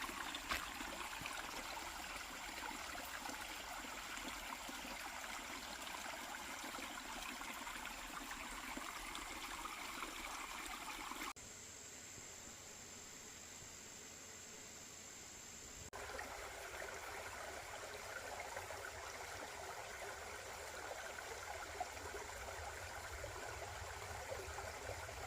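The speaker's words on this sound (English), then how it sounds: "this is the other side of 2 different streams merged together here" Creek water flowing steadily where two streams merge along a woodland hiking trail, a continuous broadband rush that drops briefly midway before resuming at the same level.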